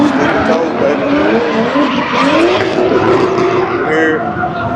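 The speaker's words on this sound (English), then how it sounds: "That's all you gonna hear. Tires screeching, baby. Drifting, slammed enough." Cars drifting at a Slammedenuff car meet, with loud continuous tire screeching and wavering squeals over engine roar, heard close with people talking underneath.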